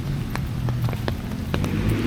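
Steady rain falls over a rural rice-growing town near Pototan, Iloilo, in the Philippines. It makes a continuous hiss with scattered crisp drip taps, moderately loud and close, with no talking.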